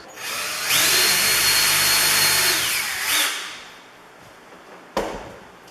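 A power drill whines loudly for a couple of seconds as it bores through cabinet wood, winds down, then a short sharp knock follows.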